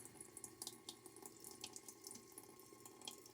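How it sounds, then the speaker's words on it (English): Tap water runs into a bathroom sink while someone splashes it onto their face before a wet shave, a soft, steady flow broken by small irregular splashes, quiet and close. "Get a little water on my face"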